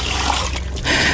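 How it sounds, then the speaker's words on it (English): Water poured from close by onto a freshly caught fish, a brief splashing trickle that carries on steadily with no voices. "I'm just going to drop some water on this"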